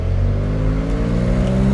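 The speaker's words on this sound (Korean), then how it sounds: "그 포르쉐가 가지고 있는 특유의 약간 좀 그 드라이한 배기음이 있거든요" A Porsche 911 of the 992 generation, with its boxer engine, gives a dry, raspy exhaust note, revving steadily up close in a short, loud burst with rising engine tones.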